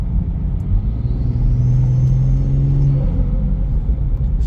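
Gen 1 BMW B58 engine fitted with a titanium racing intake, a steady low rumble with a brief rising intake tone partway through, heard from inside the moving car.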